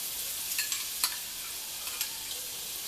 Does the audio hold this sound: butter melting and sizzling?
yes